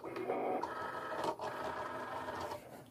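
A Cricut cutting machine feeds in its cutting mat with a steady mechanical whirring and motor hum, pausing briefly midway before stopping.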